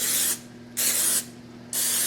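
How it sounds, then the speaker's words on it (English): Three short bursts of cooking spray onto a baking dish, each a loud hissing whoosh lasting under half a second, separated by brief pauses with a faint background hum. "Now spray, and I like to spray it real nice"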